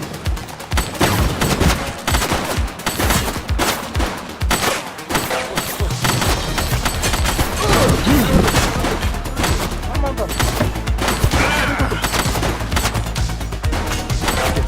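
Heavy gunfire in a police video game, rapid overlapping shots and automatic bursts at close range, loud and sustained through the whole stretch, with game voices and effects mixed in.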